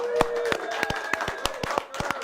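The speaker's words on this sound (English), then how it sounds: "We're going to give you a rousing round of applause, yeah?" A small studio group claps in a short burst of applause, with sharp, separate hand claps landing in a loose, uneven rhythm.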